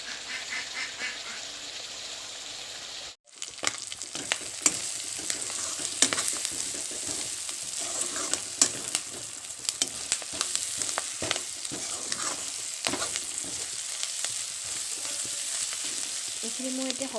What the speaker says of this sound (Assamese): এনেকৈ পিঁয়াজখিনি দি মই অলপ সময়ৰ কাৰণে ভাজি ল'ম